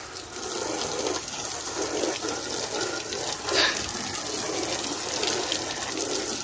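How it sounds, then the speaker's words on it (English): Steady hiss of water spraying hard from a hose, continuous and close, with no voices. "Just use a garden hose and blast it off."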